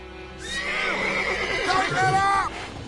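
Horse in the video game The Witcher 3 letting out a loud, shaky neigh that rises and then falls in a quavering whinny, with a second whinnying burst close behind and male speech alongside.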